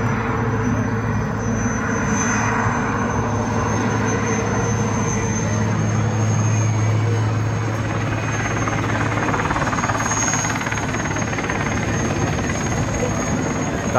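An aircraft drones steadily overhead at an air show, a loud continuous engine roar with a high whine running through the whole stretch and no break in level.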